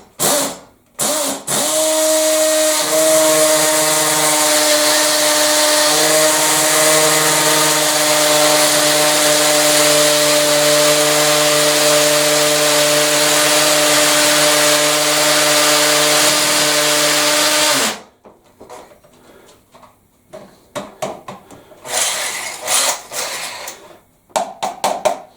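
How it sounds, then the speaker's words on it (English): A power drill runs nonstop for about sixteen seconds, boring through ceramic tile into a Victorian solid brick wall with a loud, steady whine, then cuts out, leaving scattered handling noises. "here we go. Drill, drill, drill."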